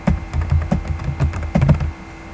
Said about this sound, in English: then we want to type in accommodations.